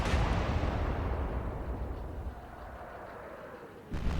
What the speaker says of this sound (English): Hood's turn. It's going to keep the guns firing.